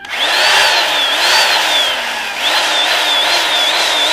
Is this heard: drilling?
yes